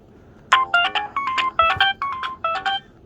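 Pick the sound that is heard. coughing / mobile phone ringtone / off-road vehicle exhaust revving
mobile phone ringtone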